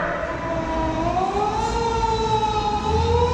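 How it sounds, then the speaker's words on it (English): A fire engine siren in a Japanese street wails in long, rising and falling tones, loud and fairly close, over a low traffic rumble with no talking. "Fire engine?"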